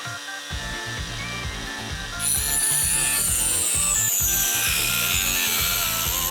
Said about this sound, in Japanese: 水平で固定したリューターで切ればまっすぐ切れるはず